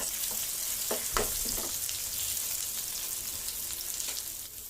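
Stuffed okra sizzles gently in oil over a low flame, a soft continuous frying hiss with a few scraping stirs near the start, and no voices.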